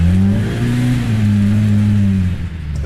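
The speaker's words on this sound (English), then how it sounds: "The engine roar is unmistakable." A RZR Pro R off-road vehicle's high-displacement, high-revving engine roars loudly and close, its pitch rising and wavering steadily for a few seconds without a break.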